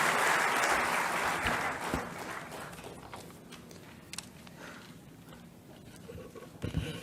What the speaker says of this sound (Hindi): आप सभी जोरदार तालियों के माध्यम से माननीय का स्वागत करें।